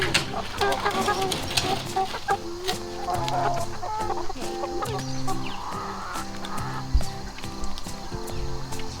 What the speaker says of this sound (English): So now we're here where the big chickens are.